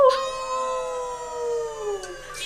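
A voice imitating a wolf howl, one long drawn-out sliding tone that rises and slowly falls, loud and close, with no talk over it.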